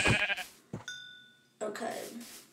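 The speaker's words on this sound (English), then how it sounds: "Some sheep over there, wait." A sheep bleats in Minecraft PE survival play, a short synthetic bleat heard close, with someone talking before and after it.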